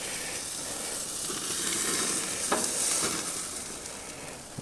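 A steak topped with melting cheese sizzles as it comes off a Monument Grills Mesa 405k gas grill, a steady close hiss and crackle with a few sharper pops near the end.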